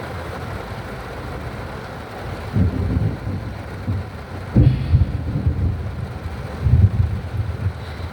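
Storm wind and rumbling thunder heard from inside a parked car, a steady muffled roar of wind and rain with several low thunder rolls swelling and fading.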